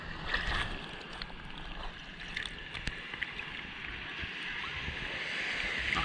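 Small ocean waves wash at a Florida Gulf beach in light wind, a continuous broad rush of surf with splashy bursts, fairly close and moderately quiet, with no talk.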